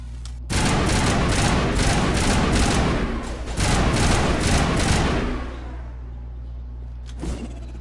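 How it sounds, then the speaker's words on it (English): Sniper rifle fire in Mass Effect Legendary Edition, a run of loud, dense shots packed into a few seconds that fades into a lingering tail, then one faint, brief burst near the end. "Why am I using my sniper rifle?"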